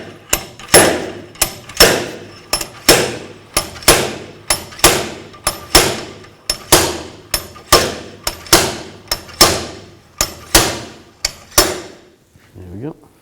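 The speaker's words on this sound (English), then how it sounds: "Now I'm going to use a slide hammer with that all tightened up and take the bearing out" Slide hammer pulling a rear axle bearing from a 2000-06 Chevy Tahoe, about fifteen sharp metallic impacts in a steady rhythm, each ringing briefly, close and loud with no talk.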